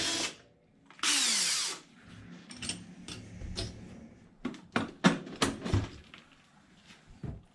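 Power tool spinning a 17mm 12-point socket on the screws or nuts of a Traxxas X-Maxx RC truck: a short, loud whirring burst, followed by clicks, clatters and handling of small parts close by.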